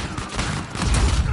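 Gunfire in the video game Uncharted comes as a dense, noisy burst of rapid shots across the whole short span, loud and close with no pause between them.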